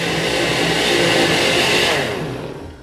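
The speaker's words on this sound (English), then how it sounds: "so let's blend this up right now." A kitchen blender whirs loudly and steadily for about two seconds, blending a Jamaican carrot drink, then winds down as the motor slows.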